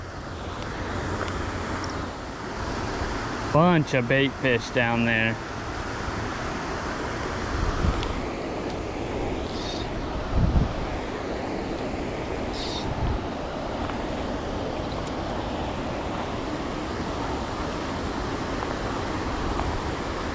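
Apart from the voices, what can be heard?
water rushing from a treatment center waterfall in a desert canal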